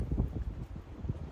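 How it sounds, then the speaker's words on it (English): Wind blows outdoors in a garden, buffeting the microphone with a low, uneven rumble that surges and dips throughout. "So it's very windy out here"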